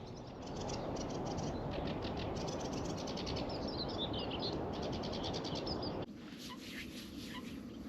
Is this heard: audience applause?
no